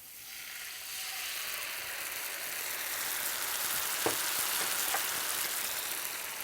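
Tamarind paste sizzles steadily as it fries in a pan for vatha kuzhambu, a continuous close hiss with a few sharper crackles near the end and no talk.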